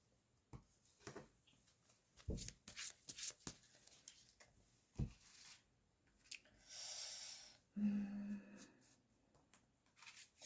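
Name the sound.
shuffling and drawing tarot cards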